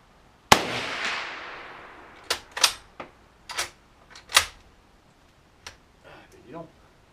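A rifle fires 8x57IS reduced-load ammunition, giving one sharp, loud report with a long decaying ring, followed by scattered mechanical clicks and clacks of the action and the shooter's handling.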